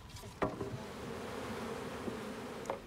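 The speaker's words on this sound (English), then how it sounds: "This hive is dying at the moment. It's a victim of varroa mites." Soft, steady buzzing of a honeybee colony in a dying hive infested with varroa mites, a low continuous drone with a couple of faint knocks, heard at close range without talking.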